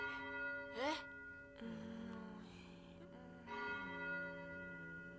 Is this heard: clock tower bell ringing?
yes